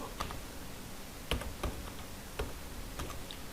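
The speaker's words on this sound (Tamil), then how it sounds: "அடுத்து இப்போ நான் மதுரைன்னு டைப் பண்ணுறேன்" Keystrokes on a computer keyboard while entering a word into an Excel spreadsheet, a handful of sharp clicks spread unevenly over a few seconds against a quiet room, no talking.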